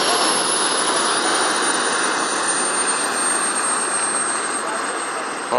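A model jet aircraft's turbine engine at a jet rally, a loud sustained high whine and roar that holds steady with a slowly gliding pitch as the plane flies overhead, with no talk over it.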